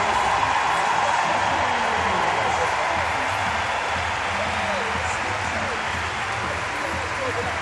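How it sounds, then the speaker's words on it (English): A delighted crowd in the Olympiahalle, Munich, cheers and applauds after an uneven bars final at the 2022 European Championships, a steady roar of clapping that continues under a commentator talking. "To a delighted crowd in the Olympiahalle in Munich."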